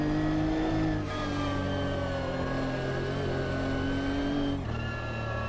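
A GT3 race car engine in the Automobilista 2 racing simulator drones steadily at high revs, holding a sustained tone with brief pitch dips as it shifts, loud and continuous with no talk.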